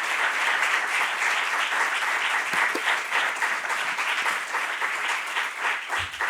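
An audience applauding at the close of a lecture in a public talk series, dense, sustained clapping from a large crowd at steady loudness, with no voices.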